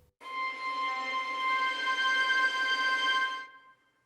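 A single thin, glassy violin harmonic rings out high and steady for about three seconds, then fades away.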